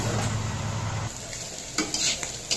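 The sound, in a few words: bitter gourd and potatoes frying, being stirred in pan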